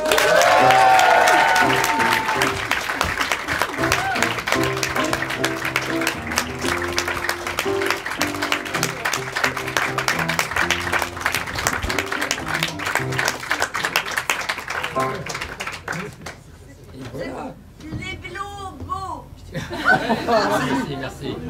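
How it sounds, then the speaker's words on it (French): Theatre audience at an improvisation show in Paris clapping and cheering as performers come on stage, loud sustained applause with laughter and chatter, later thinning as voices talk over it. "cher public, sous vos applaudissements"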